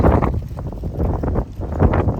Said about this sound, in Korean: 바람 소리 장난 없다.